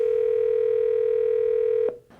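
A telephone call is being placed: a steady, loud dial tone holds alone for nearly two seconds, then breaks off with a short click.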